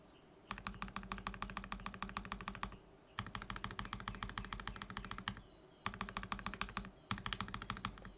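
Mechanical keyboard switches, lubed and stock, clatter through a typing test in four quick bursts of rapid keystrokes separated by short pauses, close and clear.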